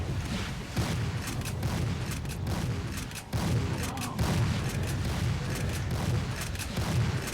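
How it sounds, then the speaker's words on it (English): Shotgun blasts in the video game Doom, loud booming shots repeated every second or so over a dense, continuous game soundscape with no talk. "we're gonna move back to the shotgun"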